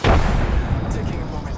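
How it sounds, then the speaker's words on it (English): Incoming gunfire striking the player in Apex Legends, a loud heavy boom-like impact burst that rings out and decays over a second and a half. "Oh, I'm taking fire."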